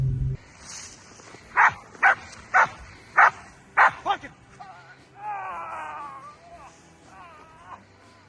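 A dog barks sharply five or six times in a quick, regular series, followed by whining and yelping sounds, fairly close and loud.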